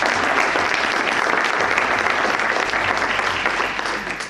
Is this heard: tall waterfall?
no